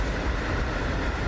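A train rumbles past close by, a steady broadband roar with no break across the short stretch and no voices.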